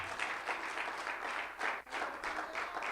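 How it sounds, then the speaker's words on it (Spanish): Loud, continuous clapping from a large church congregation at a Pentecostal service in Hillsboro, Oregon, dense and sustained throughout. "Denle un fuerte aplauso al Señor Jesucristo."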